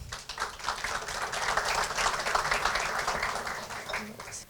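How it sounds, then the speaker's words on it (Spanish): An audience applauds at a Semana de la Innovación panel, a dense, steady wash of clapping that swells and holds for several seconds, with faint voices beneath it. "recibamos a Joel con un fuerte aplauso"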